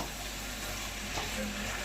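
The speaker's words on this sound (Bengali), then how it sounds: "এখন গ্যাসটা বাড়িয়ে রান্না করবো" Food fries steadily in a pan over a gas stove turned up high, a continuous close sizzle with faint stirring and no talk.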